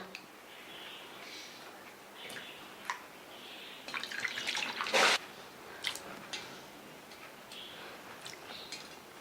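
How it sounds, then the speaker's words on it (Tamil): Grapes being washed in water, heard as faint splashing, sloshing and dripping with a few sharper clatters and one louder splash burst in the middle, soft and close. "இன்னும் ரெண்டு தடவை வாஷ் பண்ணிக்கலாம் இதை"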